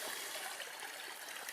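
Small stream running with snowmelt beside a lakeshore with a pebbly edge, a steady hiss of flowing water, continuous and even, quiet and alone.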